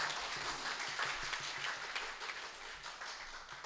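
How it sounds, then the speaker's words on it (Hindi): Applause from the crowd at a mushaira poetry gathering in Deoband, cheering a poet with a steady wash of many clapping hands, fairly faint and distant, continuing evenly throughout. "इनके लिए और इनकी हिम्मत और हौसले के लिए भी तालियां बजा दीजिए आप"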